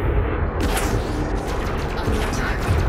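Ship cannons firing in the space combat game Elite Dangerous, a dense barrage of booming shots and crackling impacts over a continuous rumble, loud and unbroken throughout.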